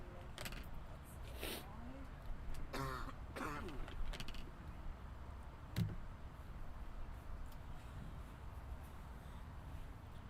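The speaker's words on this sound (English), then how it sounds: "he starts to cough once again here near the live stream" A producer coughs near a cricket live stream broadcast, a few scattered throat-clearing coughs and sharp clicks over a quiet background with faint talk.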